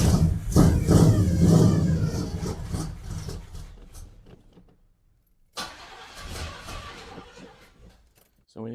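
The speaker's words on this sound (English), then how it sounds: "Ignition is on and cranking." A 1998 Oldsmobile with a fuel delivery problem cranks with the ignition on, a loud close starter churn that fades out, then after a gap of silence a second burst of cranking begins.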